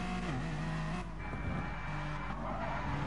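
A BTCC race car in GT Sport slides sideways at Druids, Brands Hatch, after contact. A loud engine roar is joined by a sharp tire squeal and skid that fade as the car gathers itself, with faint commentary underneath.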